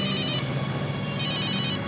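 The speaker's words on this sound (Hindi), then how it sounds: "एसीपी सर का फोन।" A phone rings with a call from an ACP, two bursts of a bright electronic ringtone separated by a pause over a steady background hum.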